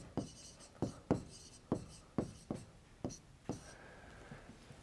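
A pen writing out a maths answer, a series of about nine short, distinct scratchy strokes at an uneven pace, close and quiet, ending in a longer scrape.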